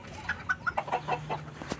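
Bantam chickens clucking in a quick series of short, bright calls, about eight in under two seconds, close by over a low background hum.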